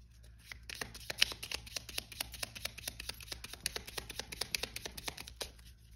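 Tarot cards are shuffled and drawn from the deck, a quick run of crisp, evenly spaced riffling flicks up close, soft and steady for several seconds before stopping.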